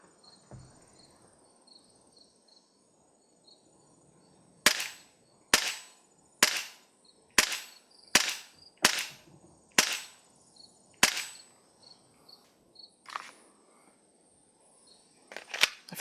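A Sig Sauer ProForce M18 airsoft pistol fires about ten sharp snapping shots at a slow, steady pace, with chirping crickets behind them.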